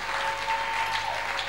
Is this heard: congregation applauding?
yes